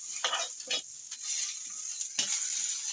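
Vegetables frying in a little oil in a pan for a tomato-tamarind chutney and broad-bean stir-fry, a steady sizzle with a few scraping stirs near the start and end, no talking.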